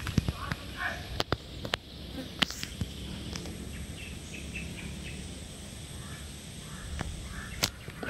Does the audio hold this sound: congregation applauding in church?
no